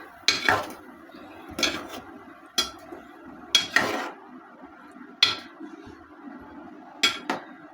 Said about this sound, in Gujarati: મિક્સ કરી લઈએ.